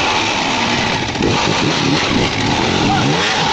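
A motorbike engine revs hard and loud with more throttle, a sustained close roar, while people talk over it.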